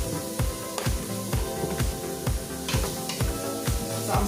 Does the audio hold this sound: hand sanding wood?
no